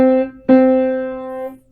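A single piano note is struck firmly, ringing clear and sharp, then struck again and left to sustain and slowly fade, alone in a quiet room.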